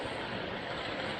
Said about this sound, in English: Rushing water